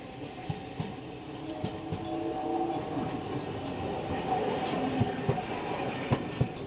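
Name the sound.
tram passing on street in Nagasaki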